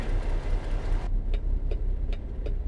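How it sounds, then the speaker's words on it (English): A Cummins N14 truck engine in American Truck Simulator, heard in a modded sound pack, holds a steady, deep idling rumble throughout. After about a second the hiss above it drops away and a few faint, evenly spaced clicks remain, with no talk. "So not only is it just the Cummins N14 engine, but it's like all the sounds around the truck and the air simulation stuff"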